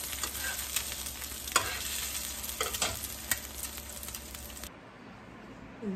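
Leaves fry in a pan with a bright, continuous sizzle, broken by repeated scraping strokes of a stirring utensil. The sizzle drops sharply near the end as the stirring stops.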